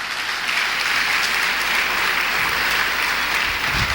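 Steady congregational applause in a church service, a dense wash of many hands clapping at an even level throughout, with no voices heard.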